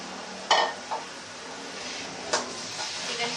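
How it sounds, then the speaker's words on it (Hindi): Chicken frying in a pan for Kalyani biryani, a soft continuous sizzle broken by a few sharp scrapes and clanks of a spatula against the pan, close and moderately loud. "चिकन को हमें इतना फ्राई करना है कि ये लाइट ब्राउन।"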